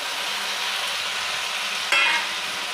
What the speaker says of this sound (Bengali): ভেজে রাখা ফুলকপিগুলো সসের সঙ্গে ভালো করে মিশিয়ে নেব।